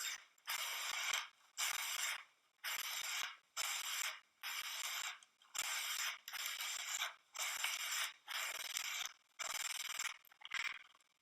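Ice skate blade sharpened by hand at the toe with a handheld sharpener, about ten evenly spaced rasping strokes with short gaps between them, close and clear with no voices.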